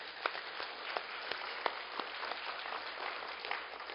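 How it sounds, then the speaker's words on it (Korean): A church congregation at an afternoon worship service applauds the choir with soft, continuous clapping, heard faint and somewhat distant, with a few sharper claps standing out. "박수 한번 해주시죠"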